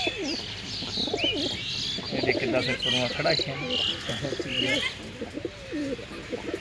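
Pigeons coo and warble steadily throughout, close by, while someone talks over them.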